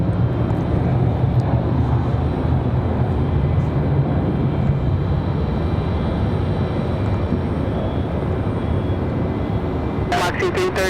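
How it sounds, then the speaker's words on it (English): Jet airliners, a United Express regional jet and an American A321, taxi at Raleigh-Durham airport as a steady, loud engine rumble and whine that holds throughout, with a brief burst of other noise near the end. "Got a United Express headed out to the end of 23 right, as well as an American A321"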